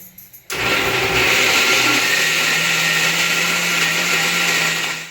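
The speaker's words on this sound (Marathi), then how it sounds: "आता त्याचं आपलं वाटण होत आहे" An electric mixer grinder whirs into a loud, steady grind of spice masala paste for a home-style chicken curry, starting abruptly after a moment of quiet and running continuously to the end.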